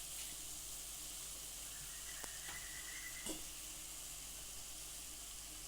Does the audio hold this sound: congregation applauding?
no